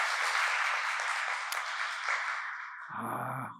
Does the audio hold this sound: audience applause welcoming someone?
yes